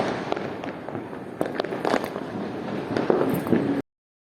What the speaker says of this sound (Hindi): पटाखे फोड़ेंगे